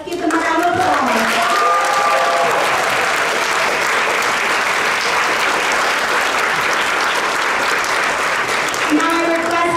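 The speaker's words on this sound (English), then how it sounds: "Let's give them a round of applause." A large crowd at a kindergarten graduation applauds loudly and continuously, a dense wash of clapping with a few voices and cheers mixed in throughout.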